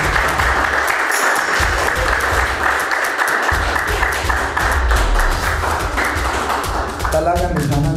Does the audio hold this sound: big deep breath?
no